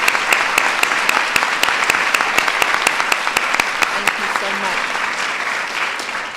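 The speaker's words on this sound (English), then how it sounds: "so we can give them a round of applause." Audience applause at a White House event honoring women in the military and their spouses, a steady round of clapping sustained throughout with sharp individual claps standing out, with faint voices underneath near the end.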